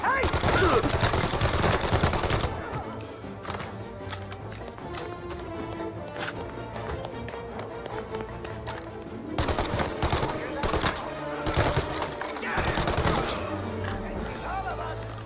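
Gunfire in Mafia: Definitive Edition: dense bursts of automatic fire open the shootout, then sporadic shots and rattling volleys follow, loud and close, with another burst flaring up later.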